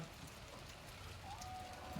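Steady rain patters down continuously, a dense wash of drops with a faint tonal whine partway through; no voices.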